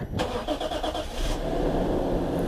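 A Toyota Mark II GX110 with a converted J160 six-speed manual transmission cranks with a rapid stuttering starter whir for about a second, then catches and settles into a steady, close engine rumble.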